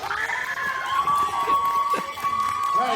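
A professional wrestling crowd at a steel cage show cheers and shouts in a continuous, fairly loud roar, with whistles and individual yells rising over the general din.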